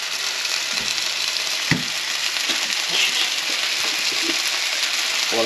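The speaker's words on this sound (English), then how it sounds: "What a sizzle." Moose burgers fry in a hot pan with a steady close sizzle that holds throughout, broken by a few soft clicks and knocks, with no talk.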